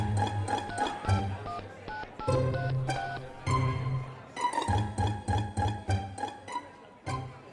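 Dialing on a landline telephone, a run of close, clear keypad tones in quick rhythmic bursts with short pauses between groups.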